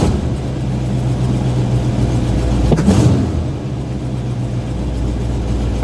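A 1984 Chevy K20 truck engine runs steadily with a deep low rumble, still on choke and needing fine tuning, with a brief swell around the middle before settling back to an even idle.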